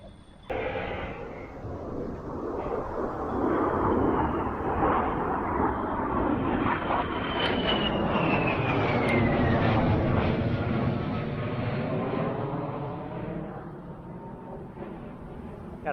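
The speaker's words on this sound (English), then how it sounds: "Got another F-18." An F-18 fighter jet flying past near a fishing spot in Gary, Indiana: a loud, broad roar that swells and holds with a sweeping pitch shift, then slowly fades.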